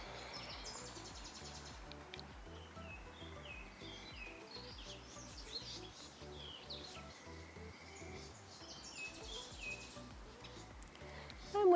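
Several birds sing and chirp outdoors over a constant insect drone, mid-distance and fairly steady throughout.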